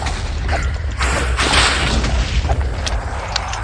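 A Minecraft Totem of Undying activates in the video game, a loud whooshing burst of magical effect swelling around the middle, with clattering mechanical game sounds before and after and no speech.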